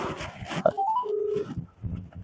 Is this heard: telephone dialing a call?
yes